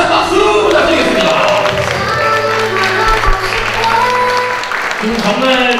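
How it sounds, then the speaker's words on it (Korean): Guests at a child's first birthday party in a party hall applaud under a voice speaking over the crowd, with clapping and light cheering throughout. "마지막으로 우리 아빠에게도 힘찬 박수 부탁드리겠습니다"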